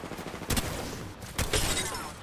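Rapid video game gunfire in a team shooter match, a dense crackling volley followed by a second burst about a second later, loud over a busy mix of game effects.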